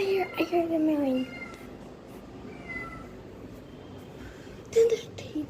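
A house cat gives a series of rising and falling meows close by, with another short meow later, while people talk in the background.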